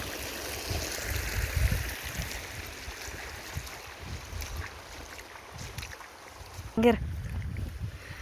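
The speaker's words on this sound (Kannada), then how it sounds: "ಕೋಡಿ ಹೋಗಿದೆ ರಾತ್ರಿ, ಮಳೆ ಜೋರು ಬಂತು ನೋಡಿ, ಹೆಂಗೆ ಹೋಗ್ತಾ ಇದೆ ನೀರೆಲ್ಲ" Floodwater rushes out of an overflowing village lake after heavy night rain, a steady broad roar of flowing water with wind buffeting the microphone and a short clatter near the end.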